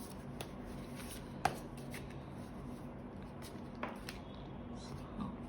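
Tarot cards are handled and shuffled close by, a soft continuous papery rustle with a few sharper taps and flicks.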